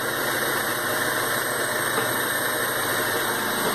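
Engine of a 2000 Honda Civic with about 110,000 km, running steadily up close with a constant even drone and vibration, no clear rise in pitch from throttle blips, and no voices.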